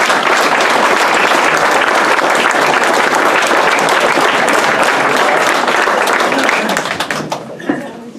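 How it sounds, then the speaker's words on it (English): Loud, sustained applause and clapping from an audience at an EMS banquet, filling the room before tapering off near the end as a few voices surface. "Another round of applause."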